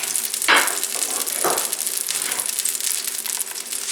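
Mushrooms, two 8-ounce packages, hit a pan of butter and olive oil with a loud, steady sizzle and crackle, with sharp bursts as they land.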